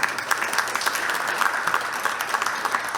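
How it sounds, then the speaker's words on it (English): Audience applause for the speakers at a talk on cryptoeconomics, internet money and decentralized finance, a steady wash of many hands clapping at moderate loudness throughout about three seconds. "If we can join me in a round of applause for the speakers."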